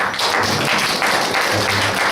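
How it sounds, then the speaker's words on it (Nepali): A church congregation claps hands together in a steady, dense applause that carries loud through the hall for the whole stretch. "प्रभुलाई धन्यवाद, उहाँहरूलाई धन्यवाद दिन ताली बजाएर एकचोटि।"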